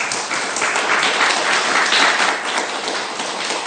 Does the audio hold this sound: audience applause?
yes